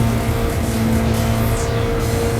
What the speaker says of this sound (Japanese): 第1コーナー手前で 130km、 4速にシフトダウンです。